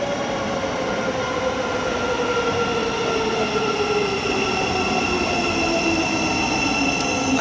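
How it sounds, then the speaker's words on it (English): A Thameslink train arrives at a London St Pancras low-level platform, a steady loud rumble of rolling stock with a long descending wheel or motor whine across the whole stretch, no voices. "Next train arriving into platform B is going to be a Thameslink service bound for Peterborough"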